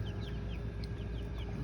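Month-and-a-half-old chickens cluck and chirp continuously while feeding on kitchen vegetable scraps, with several birds close by over a dense low background.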